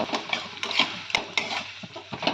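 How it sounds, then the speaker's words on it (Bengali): Chopped tomato and onion are stirred in a pan with a utensil, making soft irregular scraping and clinking strokes at close range while the food sizzles faintly underneath. "সব কিছু ভালোভাবে মিক্স করব"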